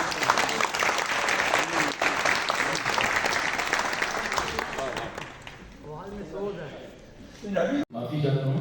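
A Hamburg, Germany gathering's audience claps for a singer, urged on to hear another sung verse. Loud, dense applause fills the first five seconds, then thins and fades as voices talk over scattered claps.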